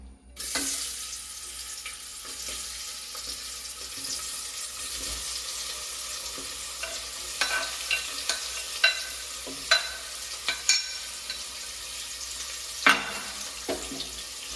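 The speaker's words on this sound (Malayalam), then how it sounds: "ഓയിൽ ചൂടായിട്ടുണ്ട് നമുക്ക് ഉള്ളി ഇട്ട് കൊടുക്കാം" Onions sizzle steadily in hot oil for chicken curry, a continuous bright frying hiss with occasional spoon scrapes and stirring knocks growing more frequent toward the end, no voices.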